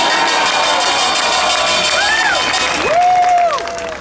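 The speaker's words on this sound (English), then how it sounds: "give a big round of applause to everyone who is not Asian American" A large outdoor crowd at a Stop Asian Hate rally cheers and claps, a loud sustained roar with rising whoops and shouts near the end.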